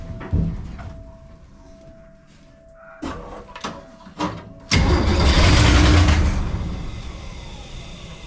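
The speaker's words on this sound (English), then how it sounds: "We're going to spin this thing over and see if we got some starterization here" A 1964 Ford Econoline engine is cranked in a few short bursts, with clicks and clunks between tries, then catches and fires into a loud, rough run that gradually settles.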